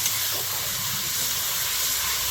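Water splashes into a hot pan of frying spices with turmeric while cooking chicken kasha, producing a loud, continuous sizzling hiss that holds steady throughout, close up.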